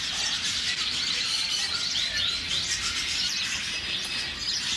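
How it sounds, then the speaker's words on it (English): Zebra finches, owl finches, shaft-tails and green singers fill a bird store with a dense, constant high twittering chorus of overlapping chirps over a steady hiss of background noise. "There's a lots of finches in here. I see some zebra finches and shaft-tails, owl finches, green singers."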